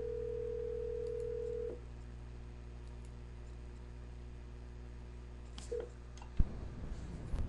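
An Avaya office desk phone goes off hook: a steady dial tone hums, cuts off, then a few faint clicks and dialing tones follow before a louder click near the end.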